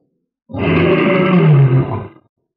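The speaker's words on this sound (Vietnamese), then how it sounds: "Tiếng gầm cao vút điên cuồng" A giant golden-horned beast with a black horn lets out a single loud, frenzied, high-pitched roar for audiobook narration. The roar is close and harsh and lasts almost two seconds, with silence before and after.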